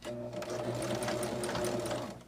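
Sewing machine running steadily to stitch two quilt pieces together for a table runner, a continuous close mechanical hum and rapid needle chatter lasting the whole stretch before easing at the end.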